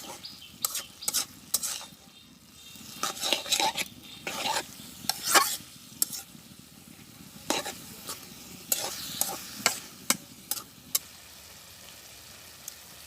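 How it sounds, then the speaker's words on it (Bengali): A spoon stirs coriander leaves into a pan of red amaranth greens and fish curry, making a steady run of close, sharp scraping and clinking strokes over a soft sizzle, with no one talking. "এখন ধনে পাতাটা একটু মিশাই দিই একদম ভিজে ভিজে"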